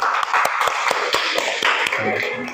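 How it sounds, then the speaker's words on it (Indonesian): Schoolchildren in an Indonesian classroom clap together in a quick, regular rhythm for a classmate, several sharp claps each second, with a voice coming in near the end. "tepuk tangan untuk Sifa"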